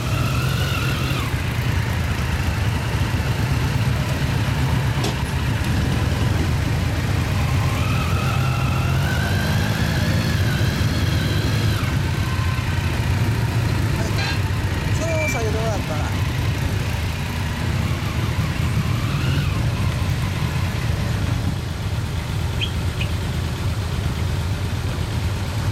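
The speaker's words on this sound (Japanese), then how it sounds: "すみません、エンジン音聞かせてもらえますか？" A 2004 Kawasaki Ninja ZX-10R sport bike fitted with an aftermarket exhaust idles steadily with a low, continuous rumble. The sound is close and loud, and people talk over it.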